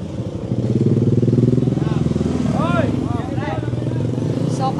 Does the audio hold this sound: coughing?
no